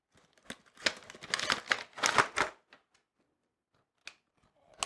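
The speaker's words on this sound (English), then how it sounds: "So now we're gonna open up our kits with some scissors" A quick burst of snipping and crinkling close by, like scissors cutting through packaging, then a few scattered clicks and rustles.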